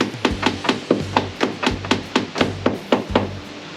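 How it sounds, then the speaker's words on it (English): Rapid light taps on part of a caravan window, roughly a dozen sharp, evenly spaced knocks close by, each with a brief woody-plastic ring. "Give it a little tappy"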